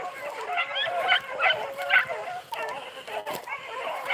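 Beagle hounds baying and yipping in a continuous chorus while chasing a rabbit through the field, several dogs heard at middle distance.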